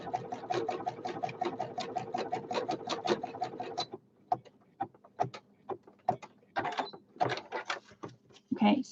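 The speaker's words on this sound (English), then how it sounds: "I've put also a quilter needle in my machine instead of an embroidery one." Sewing machine fitted with a quilter needle, stitching in a rapid even burst of clicks, then pausing and running in short separate spurts, fairly close and without talk.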